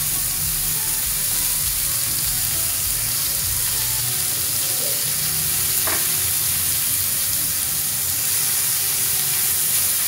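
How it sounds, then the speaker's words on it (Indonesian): Beef steak sautéing in a pan over low heat, with a steady broadband sizzle running throughout and a brief sharper crackle near the middle. "Untuk api tetap kecil ya untuk menumis ini ya."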